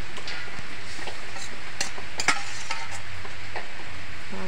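Raw hilsa fish pieces go into a wok of mustard sauce over oil, giving a steady close sizzle with faint stirring and scattered light clicks of utensils.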